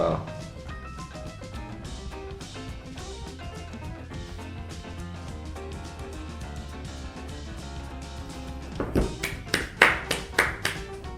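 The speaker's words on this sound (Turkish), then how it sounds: "sizi alkışlıyorum." Music plays steadily, then near the end a burst of several loud hand claps rings out in an uneven rhythm over it.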